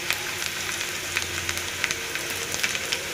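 Curry leaves and onions frying in a pan for a crab gravy, making a soft, continuous sizzle with small pops and crackles at moderate distance and no voices.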